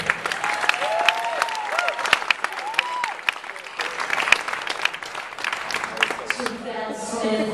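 A crowd at a Hollywood PAL benefit gala applauds steadily, clapping mixed with a few whistles and cheers, while voices carry over the noise.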